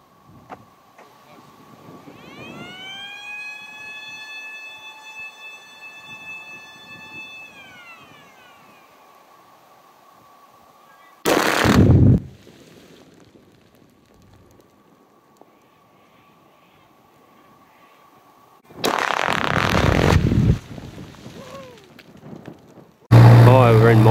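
An 18-hole rock blasting shot: a rising, wavering warning siren sounds first, then loud, abrupt broadband bursts of the blast and debris break the quiet several times.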